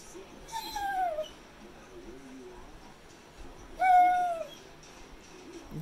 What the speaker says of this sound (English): You're just a whiny boy this morning, aren't you?